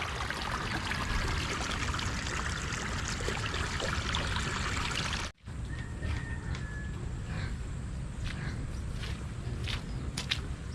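Water runs steadily through a freshly dug irrigation canal in a planted field, a close, continuous trickling rush that cuts off briefly midway before resuming, with faint bird calls in the background.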